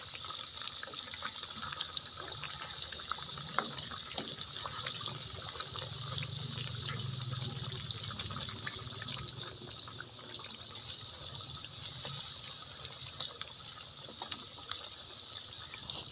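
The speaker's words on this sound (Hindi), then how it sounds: "सरसों के ऑयल के अंदर इसको फ्राई कर रहे हैं।" Fish frying in mustard oil gives off a dense, steady sizzle, like rushing water, that runs unbroken and fairly loud throughout with no voices.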